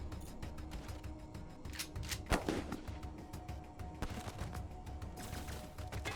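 Shotgun fire in the post-apocalyptic role-playing game Wasteland 3: one sharp, loud blast stands out amid a continuous bed of quieter combat clatter and clicks.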